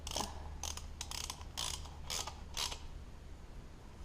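Bolts on a custom bobber motorcycle exhaust are tightened with a ratchet, giving a run of six or seven quick, close clicking bursts, then a quiet pause without speech.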